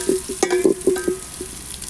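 Onions and green chilies frying in oil in a pot for a village-style meal, with a steady sizzle and several distinct tonal scrapes of a spoon stirring against the pot.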